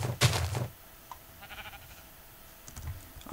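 A single short sheep bleat from a mining video game rings out at the start, followed by quiet clicking of keys and a faint distant bleat near the end.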